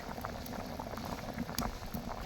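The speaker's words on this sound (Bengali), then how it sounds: "ঝোলের পানি দেওয়ার পর বলক উঠে গেছে" A pot of curry broth boiling hard after water has been added, with steady bubbling and popping throughout, close and moderately loud with no talking.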